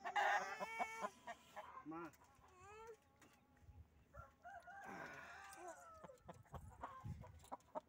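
Aseel chickens cluck and squawk up close, with a rooster crowing, while people talk nearby.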